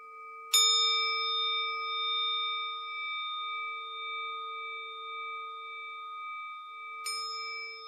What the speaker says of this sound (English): Gotta love a good bell.